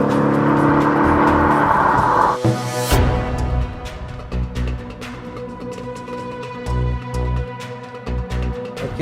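A 2014 Mercedes-Benz E63 AMG S Model launches hard from a standstill, its engine roaring loud and close as it revs up through the gears, with a sharp shift break and continued strong acceleration, no talk over it.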